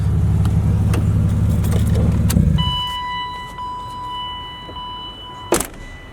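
A BMW car's engine idles steadily, then cuts off abruptly, leaving faint tones from the dashboard, followed by a brief close jangle of keys.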